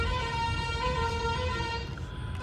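A long, unbroken vehicle horn drones on against a low rumble of idling engines and traffic at a highway toll plaza.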